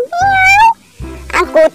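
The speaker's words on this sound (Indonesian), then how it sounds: "di sini ada kucing oranye teman. Wow, lucu sekali kucing orangnya" An orange cat gives one loud, drawn-out meow up close, followed by a person talking briefly.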